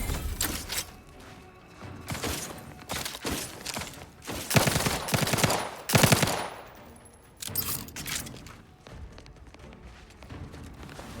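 Rapid bursts of gunfire in the video game The Outer Worlds 2, loud clustered volleys of shots separated by brief pauses, with the heaviest bursts near the middle and mechanical clatter between them.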